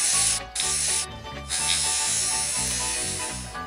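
An aerosol spray paint can coats the fender of a Zhiguli car in a loud, close, continuous hiss, cut by two brief pauses, with a low humming tone underneath.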